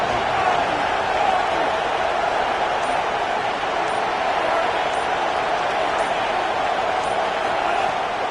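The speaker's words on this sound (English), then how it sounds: "This crowd ready to make its presence known." Steady, dense stadium crowd roar in a college football video game, a continuous wash of noise holding at an even level throughout, with commentary talk over it.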